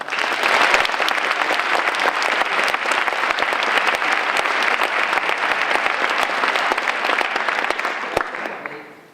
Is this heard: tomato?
no